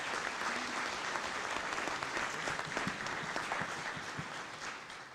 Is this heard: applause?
yes